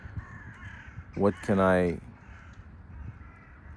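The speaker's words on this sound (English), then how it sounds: "You can probably see the crows flying." Crows give a pair of loud, harsh caws close by, a short double call standing out against quiet outdoor background, with a brief spoken word nearby.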